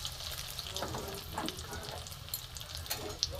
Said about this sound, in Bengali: এটাই জল ছিল মনে হয়, ওই জন্য চিটকাচ্ছে